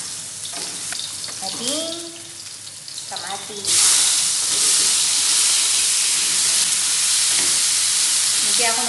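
Onion and garlic hit a hot pan for Filipino giso with dried anchovies, a soft bit of talk first, then a loud sudden sizzle and steady hiss of frying that carries on to the end.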